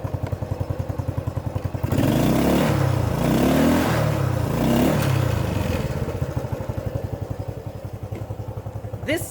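An old Cub motorcycle engine idles in gear with a rapid, even putter that swells louder and rougher for a few seconds in the middle before settling back to a steady idle.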